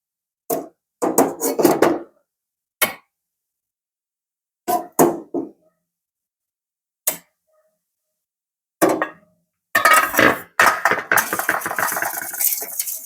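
A knife chops salted pork skin on a cutting board in short clusters of sharp thuds separated by pauses, ending in a rapid run of chops; close and loud.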